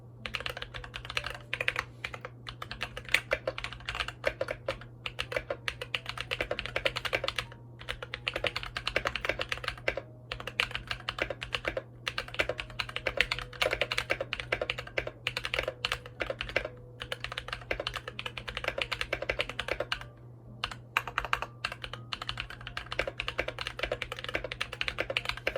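Custom KBD Fans 5 Degree mechanical keyboard typed on steadily, a dense close clatter of keystrokes with a few brief pauses over a low constant hum.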